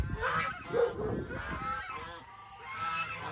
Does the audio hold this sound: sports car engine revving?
no